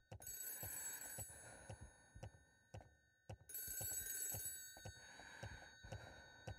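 A telephone rings repeatedly in the Ao Oni 3D horror game, a shrill electronic bell in rapid bursts separated by short pauses, faint and alone.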